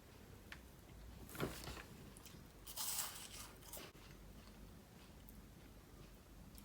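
A sugar-free, gluten-free wafer with a creamy filling is bitten into close up, giving two or three short crisp crunches against quiet room tone.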